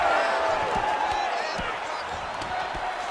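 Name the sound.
crowd reacting to strikes in UFC 4 video game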